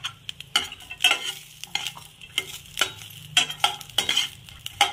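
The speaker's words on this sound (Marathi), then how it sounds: "हे 5-6 मिरची पण मी चांगली परतवून घेत आहे" Garlic cloves and green chilies frying in a pan, a lively sizzle with repeated rhythmic scrapes and clinks of a spoon stirring, close and fairly loud.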